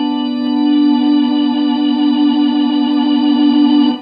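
A digital accordion's organ register, with tremolo switched on to mimic a Leslie speaker, holds one sustained chord for several seconds, its tone pulsing rapidly and evenly, loud and close with no voices.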